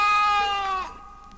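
A single drawn-out bleat from a toy plush sheep able to walk on its own, loud and close, wavering before it fades out.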